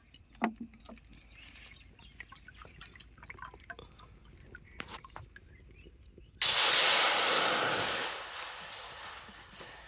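Water poured into a pan on the stove while making raw mango jelly: after a stretch of quiet clicks and drips, a loud, steady rushing pour starts abruptly and slowly tapers off.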